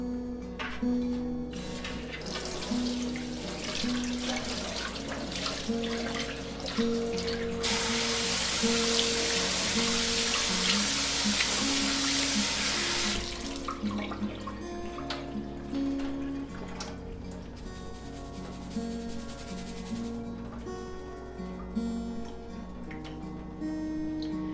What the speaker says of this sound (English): I find the easiest way to wash rice is to use a strainer, any kind of a strainer, and run water over it liberally.